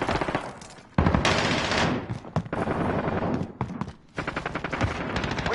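Rapid bursts of video game gunfire crackle close and loud, with automatic fire rattling in quick strings separated by short pauses.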